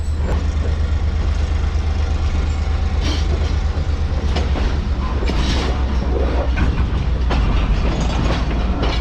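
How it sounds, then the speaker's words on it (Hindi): A locomotive pushes the Mohen Jo Daro passenger train backwards at Habibkot junction in Sindh, a loud continuous rumble of rolling wagons with periodic clickety-clack wheel beats, close and unbroken throughout. "ये रहा लोकोमोटिव हमारी ट्रेन को पीछे पुश करते हुए"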